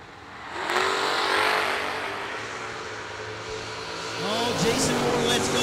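Drag cars launch at the IHRA World Finals, among them a 1991 Camaro, a loud engine roar swelling and fading into the distance with a second surge near the end, while an announcer talks over a noisy track.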